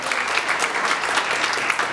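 Guests at a party venue in Queens applaud, a short burst of dense, steady clapping from a crowd filling the whole two seconds.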